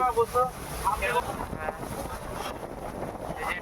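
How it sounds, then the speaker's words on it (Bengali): Boat moving along a Sundarbans mangrove waterway, with steady broadband wind and water rush throughout and brief voices near the start. "এই যে আর আমাদের সামনে ওই যে বোটটা যাচ্ছে"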